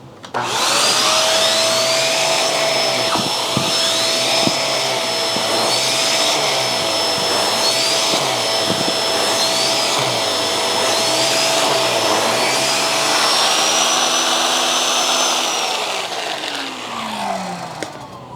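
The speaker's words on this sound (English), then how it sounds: "let's test the Hoover Tangle Guard on some pet hair with the turbo tool and see how well it performs" A Hoover Tangle Guard vacuum with its turbo tool runs steadily, picking up pet hair, its loud whine and motor drone holding for the whole stretch with a rhythmic brush-roll swish underneath, alone with no talk.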